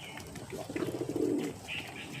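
A pigeon coos nearby, a soft low rolling call swelling in the middle, with a few faint chirps from other birds in the background.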